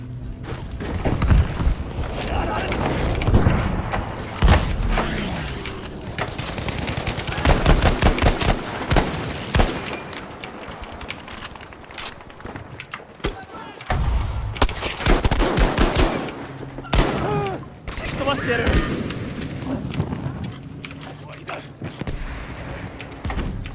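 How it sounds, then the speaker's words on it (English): M1 Garand rifle fire in the shooter Battlefield V, with repeated sharp shots and rapid bursts mixed with other battlefield gunfire and booms, loud and sustained, while a voice talks intermittently over the fighting. "Problem with the M1 Garand, only 8 rounds."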